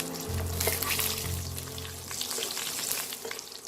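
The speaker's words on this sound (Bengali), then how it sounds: "জিরেটা হয়ে গেছে, আমি এবার কাজু আর কিশমিশটাও দিয়ে দেবো।" Cashews and raisins fry in a pan where cumin has already been toasted, cooked for Bengali bhuna khichuri; a close, continuous oily sizzle crackles steadily throughout, without any talking.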